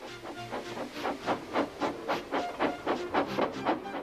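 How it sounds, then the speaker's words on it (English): A cartoon steam engine puffs and blows steam in a steady chuffing rhythm of about a dozen even bursts as it gets ready to back onto a train, moderately loud with no talking. "with much noise and blowing of steam, got ready to back onto the train"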